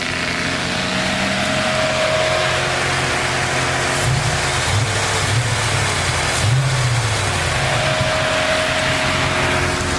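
A 1996 Chevrolet Camaro Z28 V8 engine rumbles continuously up close, idling loudly with a couple of short throttle blips in the middle and no voices over it.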